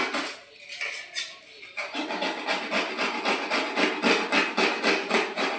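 Pointed gourds (potol) having their skin scraped, a rhythmic series of close, gritty rasping strokes repeating evenly about twice a second after a short pause, with no talking.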